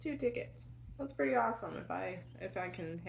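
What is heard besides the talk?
No everyday noises stand out.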